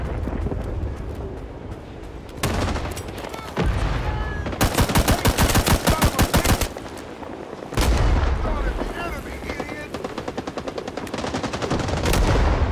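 Rifle hip-firing in the Vietnam War shooter Rising Storm 2: Vietnam, loud rapid bursts of automatic gunfire with sharp repeated cracks, pauses between bursts and echoing rumble underneath.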